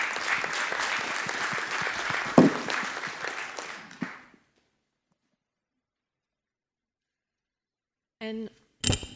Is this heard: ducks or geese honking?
no